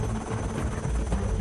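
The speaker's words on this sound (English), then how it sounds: "Choppers have been pressed into service to provide aid to residents who are now living in their terrace" Helicopter flying over flood-hit Chennai after Cyclone Michaung, a steady low rotor drone with rhythmic thumping that holds at an even, fairly loud level throughout, with no voices.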